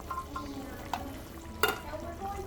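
Drained canned bamboo shoots and vegetables tumble into a frying pan for green Thai curry with chicken, giving a soft sizzle with a couple of sharp clatters and stirring scrapes, close and moderately quiet.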